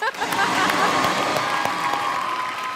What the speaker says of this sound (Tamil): ஓகே, இந்த சமுத்திரத்துக்கு ஒரு பெரிய கைத்தட்டல் கொடுத்துருக்கேன்